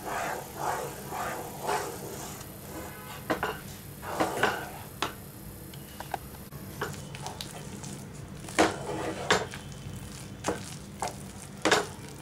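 Maida flour mixture being stirred in a pan, with repeated scraping and sizzling strokes in an uneven rhythm, close up and moderately loud; a dog barks at times in the background.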